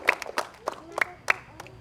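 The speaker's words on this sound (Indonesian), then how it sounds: "Tepuk tangan untuk Damar ini." Schoolchildren at an elementary school ceremony commemorating Pancasila give a short burst of clapping: about six sharp, separate claps, fairly close and loose in rhythm, with no steady roar behind them.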